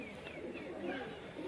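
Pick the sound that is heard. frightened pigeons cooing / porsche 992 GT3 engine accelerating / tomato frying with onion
frightened pigeons cooing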